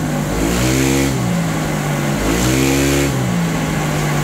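A Honda Click scooter engine revs hard and steadily near 3,000 RPM, loud and close, its pitch climbing and dropping in two long sweeps with no talking.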